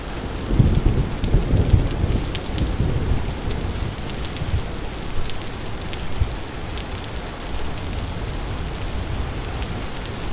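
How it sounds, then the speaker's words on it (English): Thunderstorm weather in the survival game Vintage Story, with steady rain hissing throughout and low rumbles of thunder swelling near the start, then settling into an even downpour. "Ooh, it's a storm!"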